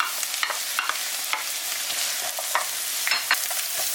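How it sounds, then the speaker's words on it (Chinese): Scallion, ginger slices and chopped onion sizzle and crackle steadily in hot oil in a home kitchen, with occasional stirring scrapes over the continuous frying hiss, close and fairly loud. "油热，我们放入葱和姜片。 把切好的洋葱也给它放进去，"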